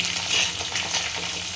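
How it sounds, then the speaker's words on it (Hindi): Ginger and green chillies fry in hot oil in a pan, a continuous crackling sizzle with faint stirring clinks over a brief stretch, no speech. "और जो हमारे पास 2 हरी मिर्च मैंने काटी, 3 हरी मिर्च, इसको भी हम डाल देंगे और इसको हम फ्राई करेंगे।"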